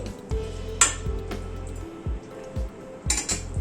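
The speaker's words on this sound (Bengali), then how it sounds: "সবকিছু একবার একটু মিশিয়ে দিচ্ছি" A pot of thin fish curry with sugar and chopped coriander being stirred, the spoon scraping and clinking against the metal sides in short, uneven strokes, close and fairly loud, with a faint sizzle underneath.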